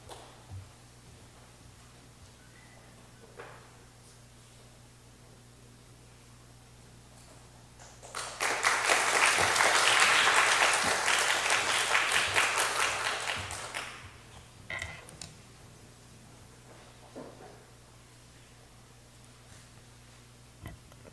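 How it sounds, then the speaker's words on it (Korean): A lecture audience at a Reformation-theology seminar breaks into warm applause for an arriving speaker, many hands clapping loudly for about six seconds in a quiet hall before fading back to near silence with scattered small noises. "우리 나오실 때 큰 박수로 환영하겠습니다"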